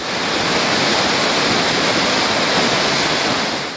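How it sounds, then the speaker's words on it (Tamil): The flooding Manimuthar waterfall roars as a loud, steady, dense rush of water, constant throughout with no voices. "மணிமுத்தாறு அருவியில் வெள்ளப்பெருக்கு ஏற்பட்டுள்ளதால் பயணிகள் அனுமதிக்கப்படவில்லை."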